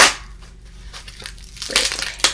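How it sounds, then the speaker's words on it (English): Plastic bubble wrap packing around a fork set, crushed and crinkled by hand in close, loud crackling bursts with pauses between, no talking. "this inside of more plasticky bubble wrap type things"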